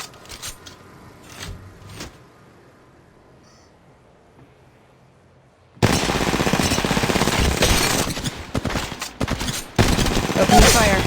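Rapid video game gunfire in Apex Legends, a sniper and pistol only match: a few scattered shots early, then after a quiet gap a dense, loud stretch of repeated firing and impacts, with brief voice lines.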